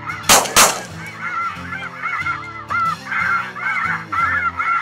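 A large flock of light geese honks continuously on the first day of the spring conservation season, a loud, overlapping chorus of high, nasal calls close by, preceded by two sharp bangs.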